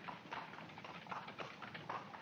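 Horse pulling a cab in a 1947 film street scene, hooves clip-clopping in a steady trotting rhythm at moderate distance with faint wheel and street noise beneath.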